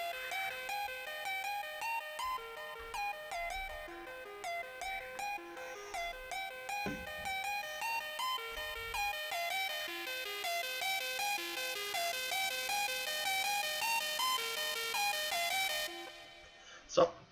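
A bright, bell-toned synth MIDI line from a DJ remix runs in quick repeating notes with soft low pulses, then cuts off abruptly near the end before a brief thump and a short burst of noise.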